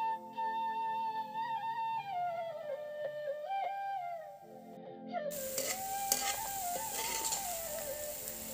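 Gram flour boondi fries in hot oil, a soft continuous sizzle that rises sharply after several seconds, with a melodic background tune playing throughout.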